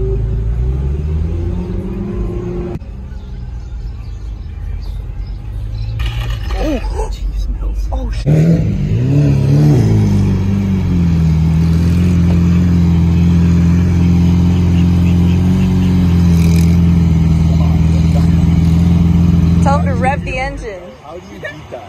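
A Lamborghini Aventador engine fires up and roars with a deep, steady rumble that holds loud for about twelve seconds before cutting off, while excited people exclaim over it.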